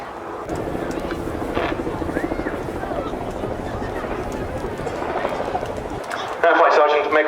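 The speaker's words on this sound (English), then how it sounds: "the aircraft climbs away and readying itself for another positioning turn" A casualty evacuation helicopter flying fast and low at the Farnborough International Airshow, a steady loud rotor drone close by with a voice speaking over it, before a sudden shift to a brighter, louder burst near the end.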